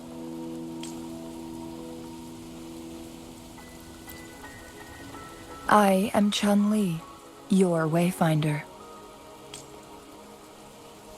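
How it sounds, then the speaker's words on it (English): Steady rain falling in the video game Wuthering Waves, a soft continuous hiss through the whole stretch, with a spoken voice and melodic game tones over it. "The rain won't last much longer."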